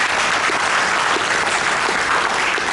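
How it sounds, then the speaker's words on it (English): An audience at a BICSI Middle East conference claps in a dense, steady round of applause that fills the room evenly for a few seconds, with no voices over it. "Can we give BICSI a round of applause?"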